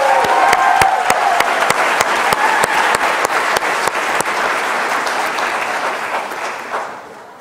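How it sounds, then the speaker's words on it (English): Applause from the audience at a Vanderbilt graduation ceremony, a dense roar of clapping with a few sharp, distinct claps standing out near the microphone, gradually thinning and fading away at the end. "And one more round of applause for Jamal."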